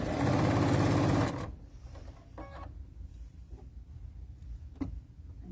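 A sewing machine runs in a loud, steady burst while stitching quilt pieces for a sew-along quilt, its rapid mechanical chatter stopping abruptly after about a second, followed by quiet room noise and a few faint clicks.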